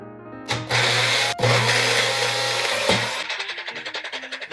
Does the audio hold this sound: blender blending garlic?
yes